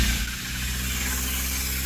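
A Honda Prelude's engine idles high and steady, a constant low hum with a slight vibration running unbroken from start to finish, close by and with no other sounds.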